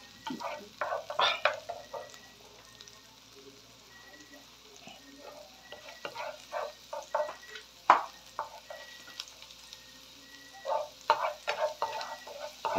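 Garlic sizzles in hot oil while a spatula stirs and scrapes the pan in irregular bursts, up close, with a faint continuous fry underneath and a few brief spoken remarks.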